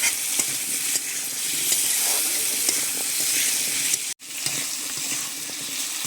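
Potatoes frying with salt and turmeric in a pan, a close, steady sizzle with stirring scrapes throughout and a brief break near the end.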